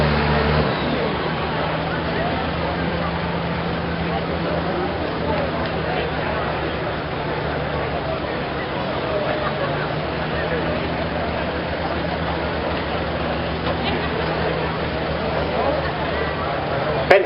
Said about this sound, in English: Trying to get the turbocharger lit off the line.